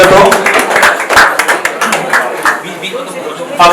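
Audience clapping to welcome a guest on stage at an awards event, a dense burst of close, loud hand claps heard alongside a prominent speaking voice.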